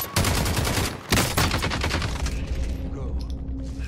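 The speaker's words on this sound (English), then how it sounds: "There's another guy shooting at me" Dense bursts of gunfire in the video game Warzone, with rapid overlapping shots and booming reports filling the clip, loud and continuous with a brief gap near the one-second mark.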